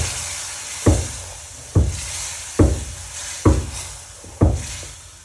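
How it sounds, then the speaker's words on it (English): Semolina simmering with milk in a pumpkin halwa pan, stirred with steady scraping strokes about once a second over a constant soft sizzle, close and fairly loud, with no voices. "so I'm going to add the milk. This is 2 cups of milk."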